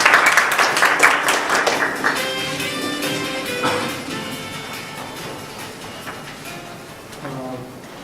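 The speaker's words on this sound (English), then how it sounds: "Please welcome with big applause." A conference audience at an Asian bioethics conference opening breaks into applause, dense clapping loudest at the start and thinning out, with a low murmur of background voices as it fades.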